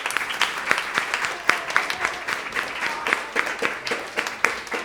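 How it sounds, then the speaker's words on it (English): An audience at a concert festival applauds partners, families and friends, a steady crowd of clapping hands, dense and fairly loud throughout without pause. "please can we give the partners and families and friends a big round of applause"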